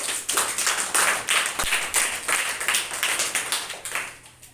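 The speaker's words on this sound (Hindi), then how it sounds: "ताली बजाइए सभी बच्चे" Primary schoolchildren clapping together in a classroom, a loud rhythmic burst of roughly evenly spaced group claps that fades near the end.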